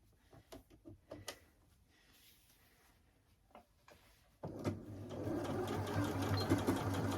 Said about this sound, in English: Pop it in the sewing machine.